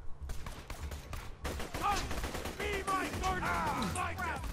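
Rapid bursts of automatic gunfire from a Borderlands 2 firefight, sharp repeated shots fired close and loud, with whistling ricochet-like tones layered over the volley and voices chattering beneath.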